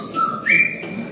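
A single harsh, strained yellow wattlebird call rising into a squeaky whistle, heard close and alone for about a second.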